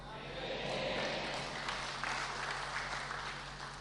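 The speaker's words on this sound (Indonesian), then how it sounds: "Tepuk tangan terus Pak Budi" An audience applauds during a sermon by KH Nuril Arifin in a church in Tayu, Pati, with steady clapping over a low hum.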